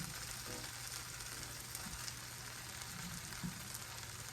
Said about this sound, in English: I'll allow my masala to fry for about 8 to 10 minutes.